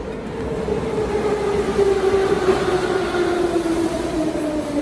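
A Tbilisi Metro subway train rumbles through its deep Soviet-era tunnel, a loud, steady roar with a droning whine that slowly falls in pitch as the train runs, no voices present.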